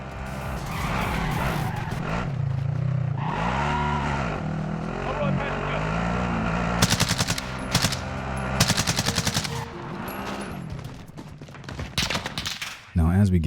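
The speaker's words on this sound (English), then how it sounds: "we're also taking note of the gunfire behind us" Rapid bursts of automatic gunfire crackle in Call of Duty: Warzone amid revving and skidding car engines, with several loud volleys in the later half and talking in places.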